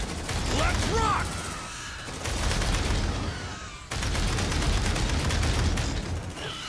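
Suppressive gunfire rings out in a squad-based shooter video game as a dense, continuous fusillade of rapid shots with mechanical clatter. It is loud and sustained over several seconds, with voices shouting in the mix.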